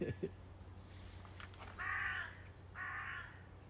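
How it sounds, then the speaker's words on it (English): Two harsh crow caws ring out after a brief voice-like sound, moderately close against faint background hum. "I am legit surrounded by crows."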